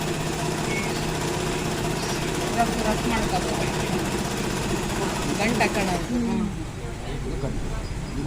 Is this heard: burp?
no